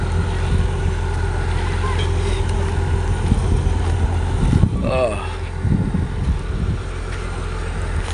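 Wind rushes steadily over a boat ride on a late afternoon, a constant broad blustery roar with a low engine drone underneath and brief voice-like sounds mid-clip.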